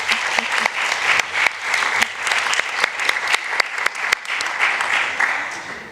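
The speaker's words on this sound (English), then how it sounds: "So round of applause for this team," A round of applause from the audience at a conference awards close, brisk scattered claps with a few sharp individual hits, steady throughout and without talk over it.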